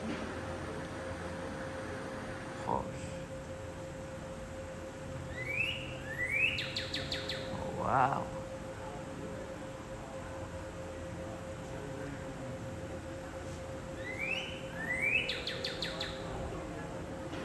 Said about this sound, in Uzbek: Qanaqadir qushlar ham bor shekilli bu yoqda.